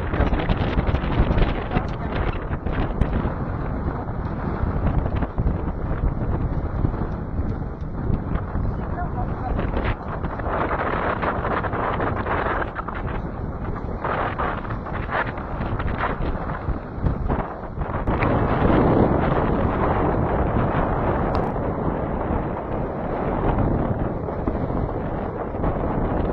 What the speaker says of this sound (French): il y a du vent, là. 15 nœuds, c'est ça 15 nœuds.